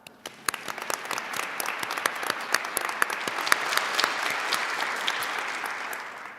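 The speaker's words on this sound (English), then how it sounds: "but we still will clap for her." Applause at a university college recognition ceremony starts with a few scattered claps and swells into fuller, continuous clapping from the audience, individual sharp hand claps standing out.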